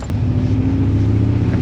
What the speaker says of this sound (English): he's got a little bit of a misfire